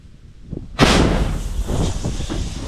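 A single massive blast from a self-propelled howitzer bursts out, followed by a long rumbling roar and echoing reverberation that lingers; a faint knock precedes it.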